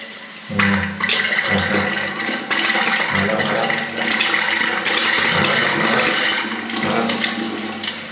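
Water gushing steadily from a bathroom washbasin tap, discoloured yellow and weak-flowing, a loud continuous rushing splash that fills the whole stretch with little pause.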